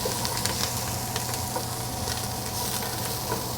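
Peppercorns and garlic stirred in a hot pan while braising lamb shanks, sizzling steadily and evenly with light scraping from the stirring.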